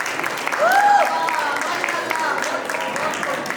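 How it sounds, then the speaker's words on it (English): Applause from an audience at a Vidya Jyoti cultural event for the team and Pratibha ji, moderate crowd clapping with a brief whistle-like tone near the start and light voices underneath. "A big round of applause for whole Vidya Jyoti team and Pratibha ji."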